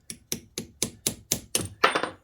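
Eight light, evenly spaced metallic taps of a hammer on a Suzuki LT125 engine part, close up and ringing briefly, with a slightly heavier strike at the end.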